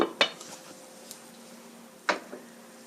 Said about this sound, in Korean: 뚜껑을 덮어서 5분간 끓여주세요